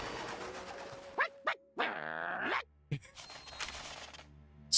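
A wolf pup enemy in the Night of Full Moon card game lets out a few close, sharp barks and a drawn-out yelp. Short gaps of silence fall between the calls.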